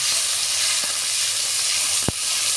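Cumin and garlic paste with chopped raw onion fry in hot oil, giving a loud, steady broadband sizzle and hiss throughout, with one brief sharp clink near the end.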